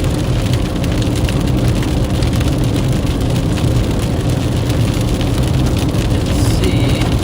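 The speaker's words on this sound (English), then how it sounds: "this rain." Steady, dense rain drums on a storm chaser's car during a severe weather chase in central Nebraska. It is a loud, even patter heard from inside the vehicle, with nobody talking.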